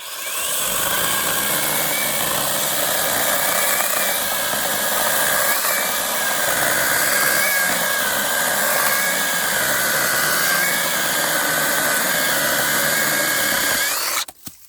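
A battery-powered saw cuts steadily through a log in one continuous, loud, close whine lasting about fourteen seconds, then cuts off abruptly at the end, with no talk over it.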